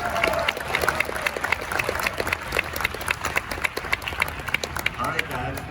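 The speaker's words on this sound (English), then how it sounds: "Please, a round of applause." An Anime Expo audience claps along at an Ultraman event, the applause dense and lively with sharp individual claps through it while a voice talks over the crowd.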